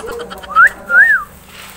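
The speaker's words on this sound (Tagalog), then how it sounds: "Sipol ka muna para bigyan kita." Two clear rising-and-falling whistles a moment apart, close and loud, with faint background sounds between them.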